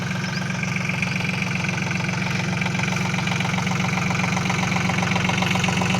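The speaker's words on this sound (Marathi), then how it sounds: "बघा आपला बघा ट्रॅक्टर चालवते मस्तपैकी" A tractor engine runs at a steady, close idle with a continuous low knocking rumble and vibration, unbroken throughout with no speech.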